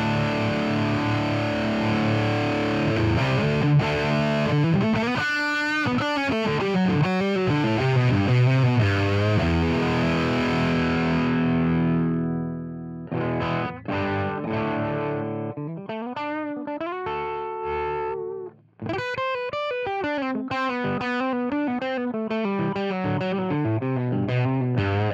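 A heavily distorted, high-gain electric guitar through a Soldano SLO-100 amp simulation in overdrive mode plays sustained chords and riffs, thick and saturated, with a brief drop in the middle before resuming loudly.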